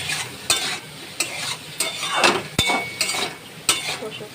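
Ground spices such as turmeric, cumin, coriander and Kashmiri chilli fried with salt and sugar for a prawn curry with pumpkin and potato, a soft sizzle under repeated sharp clinks and scrapes of a spoon stirring against the pan.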